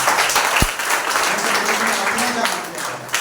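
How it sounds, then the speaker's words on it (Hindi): Church congregation clapping during a Sunday service, sustained dense applause from many hands throughout, with voices audible beneath it. "ताली बजा सकते हैं।"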